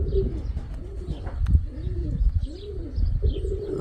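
Mykolaiv pigeons coo nearby in a repeated rhythmic series of low, rolling calls, several in a row, with faint chirps and background rustle.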